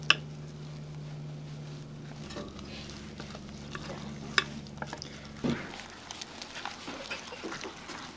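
A spoon stirs flour batter mixed with beer in a bowl, giving soft, wet scraping and squishing strokes over a low steady hum, fairly close and quiet, with no talk.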